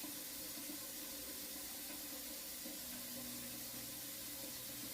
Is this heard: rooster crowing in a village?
no